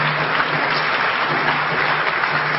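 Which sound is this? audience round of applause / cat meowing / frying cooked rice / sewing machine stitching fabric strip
audience round of applause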